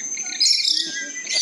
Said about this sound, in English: You gotta talk to your red parrot friend over here.